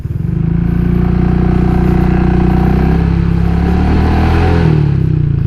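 A scooter with a replacement engine runs loud and close, with a heavy, tractor-like rattling vibration and a slight rise in revs near the end.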